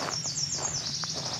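High, bright Nashville warbler song with quick repeated chirped notes, heard fairly close over soft insect-like background hiss.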